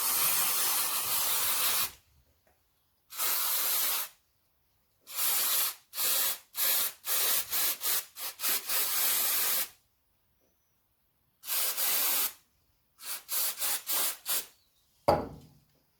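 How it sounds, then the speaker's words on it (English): Short, loud hissing bursts of brake cleaner spray onto drained oil service parts from a KYMCO MXU550i ATV, a dozen or so blasts of varying length separated by silent gaps, close up with no talk. "you need to clean them up with brake cleaner or something"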